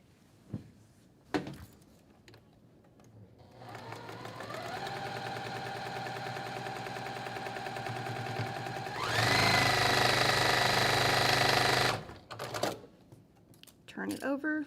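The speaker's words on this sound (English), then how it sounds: "So I'm going to sew these two." Sewing machine stitching two quilt block pieces together for a 6-inch Wagon Tracks sampler block, a steady mechanical whir running about eight seconds and speeding up louder near the end, with brief clicks before and after.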